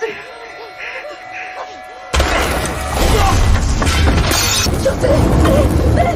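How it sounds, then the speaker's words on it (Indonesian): A sudden loud flare gun blast cuts in as the flare ricochets, followed by a sustained crackling, roaring burst of noise with sharp impacts layered through it as a ship catches fire. "peluru suar pun memantul yang justru membuat kapal terbakar, di mana Yuli langsung menendang si penyinta"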